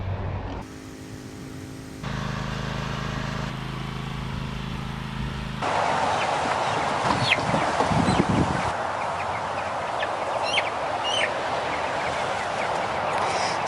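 Cornish cross hens in a chicken tractor cluck and call in a steady outdoor farm ambience, the bird sounds close and moderately loud over a continuous background hum that shifts partway through.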